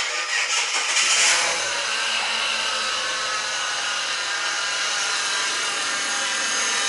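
A BA Falcon engine idling with a steady mechanical drone and a whine from the power steering pump, louder at first and then settling to an even running hum.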